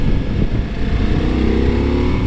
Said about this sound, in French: Alors vous pouvez commencer à entendre la voix de la Multistrada s'élever davantage quand on réaccélère.